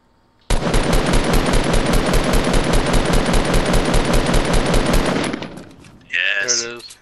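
Sustained automatic gunfire from a first-person video game, a loud rapid stream of shots lasting about five seconds, then tapering off as a brief voice is heard.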